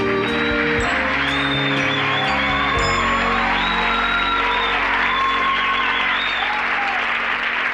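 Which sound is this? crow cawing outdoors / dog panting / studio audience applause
studio audience applause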